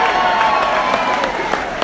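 A live comedy-show crowd in Melbourne answers with a steady wash of applause and scattered cheering, continuous and fairly loud throughout the short moment.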